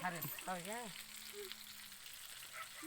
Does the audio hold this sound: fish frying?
yes